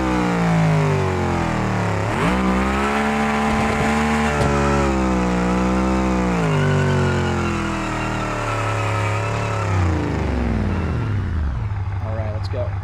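A V8 with a 6-speed manual transmission in the BeamNG driving game revs loudly and steadily, its pitch climbing, dipping and climbing again through repeated throttle sweeps before easing toward idle near the end.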